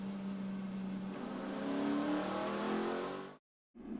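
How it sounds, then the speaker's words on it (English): A NASCAR race car on pit road spins its tires after a wall hit, a loud sustained engine roar and tire screech for about three seconds before cutting off abruptly, then resuming briefly. "when Kurt Busch, you heard him spinning the tires"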